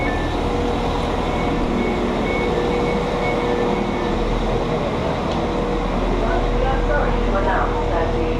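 A passenger train runs on the rails toward Barnsley, a steady low rumble and hum heard from inside the carriage, with faint clicks and squeals over the continuous drone.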